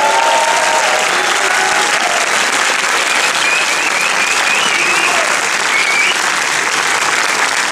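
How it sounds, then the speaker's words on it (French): Thunderous applause fills the room at a French film premiere, with dense, unbroken clapping from a large audience. It stays loud and steady throughout, and a few faint cheers rise out of the crowd. "tonnerre d'applaudissements la méchante Dream Team avec Monsieur Mouloud Achour à la réalisation"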